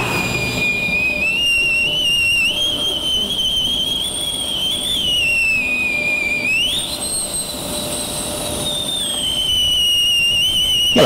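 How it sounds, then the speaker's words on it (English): A kettle whistles, driven by boiling liquid nitrogen: a loud, shrill continuous tone that wavers and rises in pitch, with a hissing rush underneath. "I'm going to put liquid nitrogen in a kettle, and as it boils, it's going to drive air"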